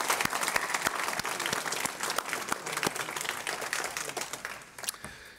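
A crowd at a library dinner event gives a lively round of applause, with many distinct claps forming a sustained, moderately loud patter that thins slightly near the end.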